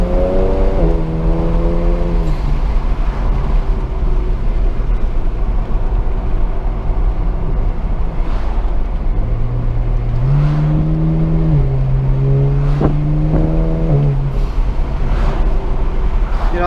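A car with a dual-clutch transmission accelerates steadily from inside the cabin, its engine tone climbing and dropping sharply at each quick upshift, a continuous loud drone with rising harmonic sweeps and road rumble underneath.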